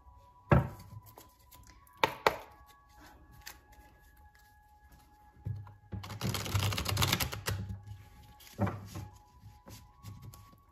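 Tarot cards shuffled by hand on a table, giving bursts of quick papery riffling and slapping, a few sharp taps early on, then a longer dense shuffle in the middle and another short burst near the end, close and clear.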